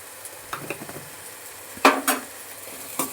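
Prawn curry masala with potatoes is stirred in a pan, with a few quiet scrapes and soft sizzles, and two louder spoon strokes near the end, close by with no talk.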